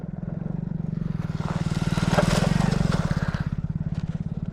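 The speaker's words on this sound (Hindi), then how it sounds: "हालांकि एक बाइक भी आ रही" A motorcycle approaches and passes at a dark cremation ground in India, its putting engine swelling to a peak near the middle and then fading as it rides away.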